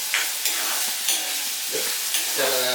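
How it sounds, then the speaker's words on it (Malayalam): Small whole shallots sizzle and get stirred in a hot pan for a shark fish curry, a steady loud frying hiss broken by regular scraping strokes of a spoon, with no talk. "ചെറിയ ഉള്ളി നമ്മൾ ചെറുതായിട്ട് മറ്റേ മുറിക്കൊന്നും വേണ്ടത്, അതുപോലെ തന്നെ ഇട്ടിട്ട് അങ്ങ് വഴറ്റിയെടുക്കണം."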